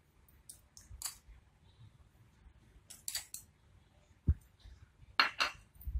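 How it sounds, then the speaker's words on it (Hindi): A metal spoon scoops sattu flour into a mixing bowl, producing a few sparse, light clinks and scrapes against the bowl, close and quiet with short gaps between them. "तो हमने एक मिक्सिंग बॉल लिया है, उसमें हम डालेंगे 4 चम्मच सत्तू"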